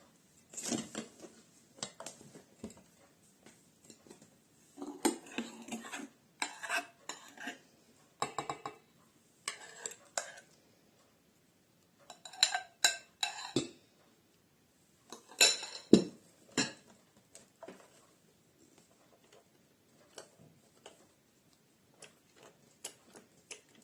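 Egg whites and yolks are whisked together in a bowl for an Eskimo cake batter, with quiet bursts of rapid ticking and clinking of the whisk against the bowl and short pauses between.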